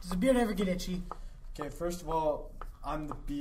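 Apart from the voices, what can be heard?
No distinct noise like a dog, phone or traffic.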